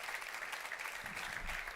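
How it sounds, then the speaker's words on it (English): Audience applause at a leadership stage session of a business summit in New York, a steady wash of clapping filling the short stretch at even strength, with no talk over it. "We have a round of applause for Eric Hession."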